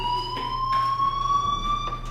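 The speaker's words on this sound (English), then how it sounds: "do you hear that fire alarm?" A fire alarm in the video game Life is Strange sounds as a steady, high electronic tone held throughout with faint overtones, fairly loud and continuous with no talking over it.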